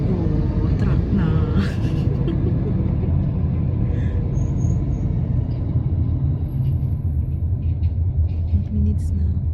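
Heavy truck traffic rumbles by on a Doha street in the morning, a dense continuous low drone with a hiss like an air brake and scattered clatter, while people talk faintly nearby.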